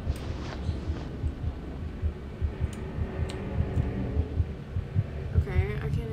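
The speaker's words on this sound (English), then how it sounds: "God, I fucking hate heartbeats." A low, steady heartbeat throbs in the video game Among The Sleep, repeating rhythmically under a droning hum, with a person's voice breaking in near the end.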